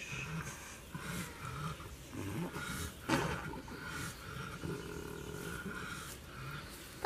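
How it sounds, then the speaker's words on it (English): A Kune Kune pig breathing heavily while giving birth, low rasping grunts and snorting breaths repeating irregularly, close but faint, with soft background noise. "This is the noises she makes when she's breathing."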